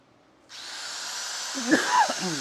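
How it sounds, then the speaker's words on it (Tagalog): A Fujima angle grinder starts up and runs with a steady, loud high-pitched whine, while a voice speaks briefly over it near the end. "Testingin din po natin yung kanyang angle grinder"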